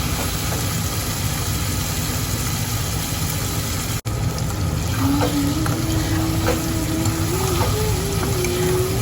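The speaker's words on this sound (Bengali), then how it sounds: "আদা রসুন পেঁয়াজ আলু সব একসাথে দিয়ে ভালো করে মশলাটা কষিয়ে নিই" Chicken frying with ginger, garlic, onion, potato and spices, giving a steady, loud broadband sizzle that runs the whole time, with a brief dropout partway through and a faint rising tone in the background.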